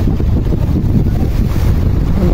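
Loud, gusting southwest monsoon (habagat) wind buffets the microphone in a continuous heavy roar, with rushing water noise mixed in.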